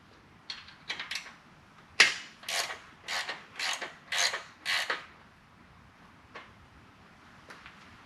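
Ratchet wrench clicking as it breaks loose rocker box bolts on a 2004 Harley-Davidson Road King Twin Cam, heard as a series of close, crisp ratcheting bursts in an uneven rhythm with quiet gaps between them.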